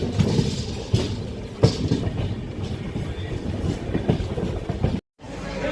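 The Jamnagar Express runs on rails nearing Ratnagiri station: a steady rolling roar with periodic clickety-clack wheel beats over the rail joints, close and continuous, with a brief dropout near the end.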